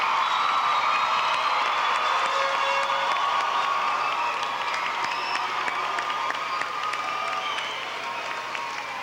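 A large crowd at a 2002 Columbia River High School graduation ceremony applauds and cheers steadily, a dense sustained wash of clapping with whoops, fading slightly at the end.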